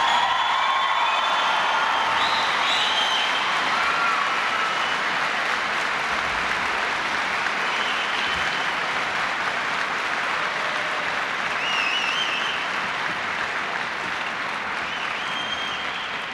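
A large crowd applauds steadily for President Reagan at the Keflavik NATO airbase in Iceland, a dense, sustained wash of clapping with a few scattered whoops, holding loud and even throughout.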